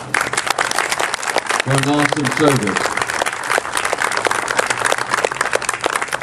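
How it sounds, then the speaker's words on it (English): A crowd at a veterans honoring ceremony claps for the honor guard, sharp individual hand claps forming lively, uneven applause throughout, with a voice briefly speaking over it early on. "Give our honor guard another good hand clap"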